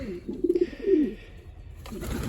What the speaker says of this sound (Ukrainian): Мають ці голуби літати.